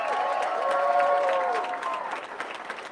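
A crowd applauds at a bowling alley reopening ceremony in Lewiston, a steady wash of clapping lasting a few seconds with no one talking over it.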